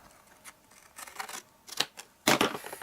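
Scissors snipping paper strips for a tea light belly band, a short run of crisp close cuts with a louder final snip, heard alone without talk.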